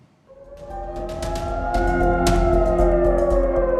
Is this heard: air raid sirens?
yes